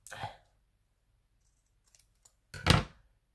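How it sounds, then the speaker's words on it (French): A pair of scissors snips during nail-art work, one short cut near the start and a louder, fuller snip toward the end with faint small clicks between. "Ciseaux."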